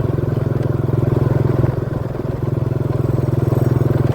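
A vehicle engine drones steadily while driving slowly, a low, pulsing rumble that stays loud and close throughout, with faint road noise and no talking.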